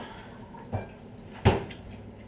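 Refrigerator door in a home kitchen handled while soup is made: a soft thud followed by a louder, sharper clunk about a second later, close by and alone against a quiet background.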